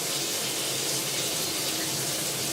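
Tap water runs steadily into a stainless steel sink, a continuous close hiss and splash with no talking.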